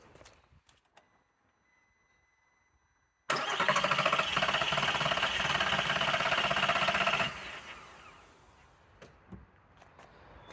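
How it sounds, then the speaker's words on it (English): A Golf VR6 4motion 24v engine cranks over on the starter during a compression test without firing. It makes a loud, steady churning whir for about four seconds and then stops, with quiet surroundings before and after. "not start the engine, but crank the engine and get a reading"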